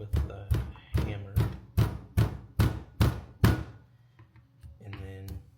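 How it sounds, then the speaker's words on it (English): A series of about nine sharp hammer blows knock metal flat while replacing an axle boot on a Honda Civic Type R FL5, at a steady pace, then stop, leaving faint rustling and a brief murmur at the end. "I'll knock this flat with the hammer"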